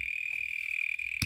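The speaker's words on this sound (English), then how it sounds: "That's a very noisy cricket nearby." A noisy cricket close by gives a loud, steady, unbroken trill for the whole stretch, with a short click near the end.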